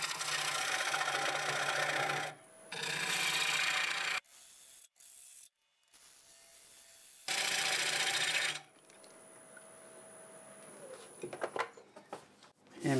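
Wood lathe spinning at about 900 RPM while English walnut is turned, loud broadband bursts of tool-on-wood cutting alternating with quieter spindle hum and a steady tone, ending in scattered scraping clicks.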